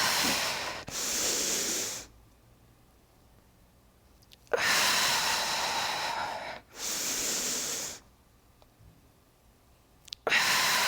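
Three long, loud exhalations during a Pilates exercise, each a broad airy rush lasting about two seconds, separated by quiet pauses with no talking.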